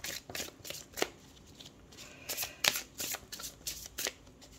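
Tarot cards riffled and shuffled by hand for an autumn equinox reading, a run of soft crisp flutters and slaps at close range with no voices.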